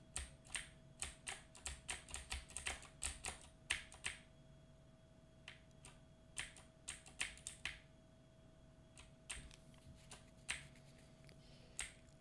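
Computer keyboard keys pressed during a game, irregular bursts of sharp close clicks and taps, quick clusters then pauses, with a faint steady electrical hum underneath and no talk.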